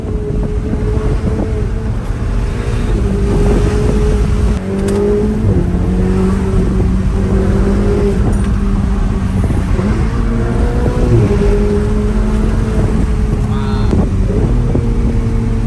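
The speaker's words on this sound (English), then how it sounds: "Wow, that downshift is crazy." A Ferrari 488 GTB's engine roars continuously and loudly, revving with repeated pitch drops from downshifts as the car pulls along the street, with wind noise throughout.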